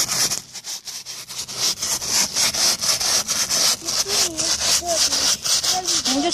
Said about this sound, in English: I'm just scrubbing it with a brush